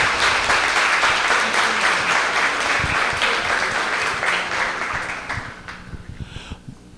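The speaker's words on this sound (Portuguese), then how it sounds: "Aplausos para o Saulo Gomes." An audience applauds Saulo Gomes in a hall, with dense sustained clapping that is loud at first and then slowly thins and fades toward the end.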